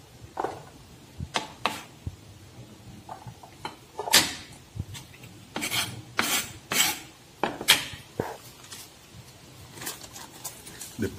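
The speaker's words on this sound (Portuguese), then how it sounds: "você precisa picar o queijo parmesão em cubinhos pequenos" Parmesan cheese is chopped into small cubes with a knife on a board, giving irregular, close clicks, taps and scraping knocks spread across the stretch with quiet gaps between.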